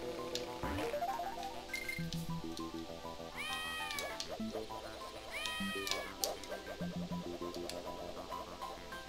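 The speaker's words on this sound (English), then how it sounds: "A peacock should not sound like a cat." Peacock enemies in Donkey Kong Country 2 on the GBA, on a bramble level, let out two cat-like meowing cries a couple of seconds apart over busy, upbeat game music and effects.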